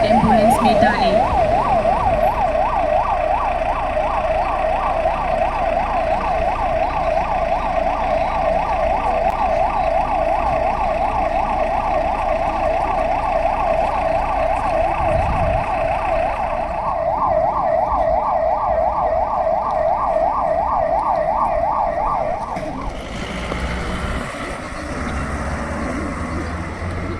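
An ambulance siren wails in a fast, steady warble during a police training drill, loud and continuous with traffic rumble beneath, then cuts off, and a voice is heard near the end.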